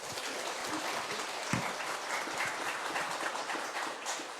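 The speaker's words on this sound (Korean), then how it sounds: "다시 한번 큰 박수 부탁드리겠습니다." Sustained audience applause at a Buddhist meditation camp event, a dense, even wash of many hands clapping at moderate distance throughout, with no voices over it.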